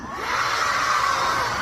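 A fan event crowd lets out a loud, sustained roar of shouting and cheering that holds steady throughout.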